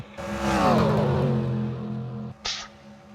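A race car in the NASCAR Racing 2003 video game, racing in a Hudson Cup Series event, sweeps past with its engine whine dropping in pitch, followed by a brief hissing burst near the end.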